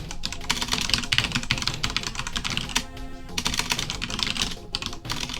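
Typing on a computer keyboard during work on a UnixWare (UNIX System V Release 5) system, with rapid, dense keystrokes close to the mic that run almost continuously, broken by one short pause.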